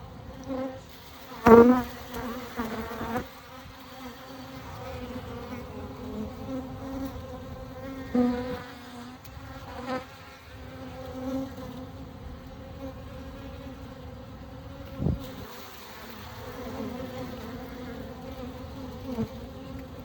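A dense, continuous drone of many honeybees buzzing close up inside an open hive colony, with a few sharper bursts as individual bees pass near.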